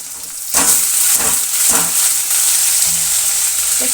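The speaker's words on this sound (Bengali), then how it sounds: "মাছের পেটাপুটি দিয়ে দিলাম। এখন এটা একটু আমি ভালো করে ভাজা ভাজা করবো" Fish belly pieces frying with chopped onion in hot oil: a sizzle surges as they go in, then holds a steady loud crackle with periodic stirring scrapes of the spatula.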